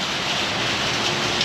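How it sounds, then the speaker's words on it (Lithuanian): Heavy rain pours in a small town in Indonesia as a loud, constant broadband hiss with no breaks and no voices. "Lyja lietus baisiai."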